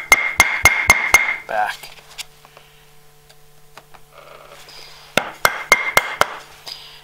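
A chisel is struck with a hammer to chop dovetail waste, giving two quick series of sharp, close knocks, about five blows each, separated by a quieter pause with scraping, and a brief word spoken.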